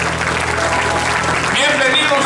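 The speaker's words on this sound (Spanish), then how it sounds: "Dele fuerte esas palmas al Señor." Church congregation clapping loudly together during a Spanish-language service, a dense continuous applause throughout with a voice speaking over it.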